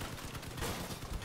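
Dense, rapid bursts of turret gunfire from a vehicle-combat battle in Crossout, loud and continuous through a short stretch with no pauses.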